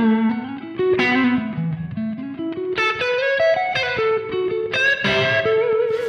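Electric guitar through a Neural DSP Soldano SLO-100 amp patch with heavy vintage-style reverb, playing a melodic blues lick of sustained bent and sliding notes with a long wash trailing each phrase, loud and alone.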